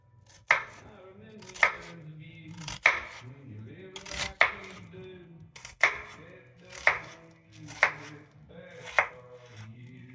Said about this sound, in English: So I just slice it in half carefully, like long ways.